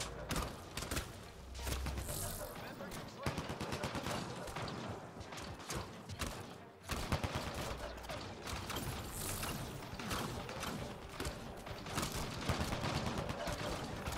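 Rapid bursts of automatic gunfire and mechanical weapon clatter from a Mass Effect Andromeda firefight, dense and continuous with repeated volleys, loud and close throughout.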